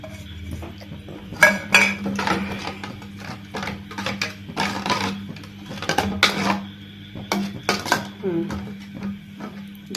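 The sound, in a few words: mixing beaten eggs in a bowl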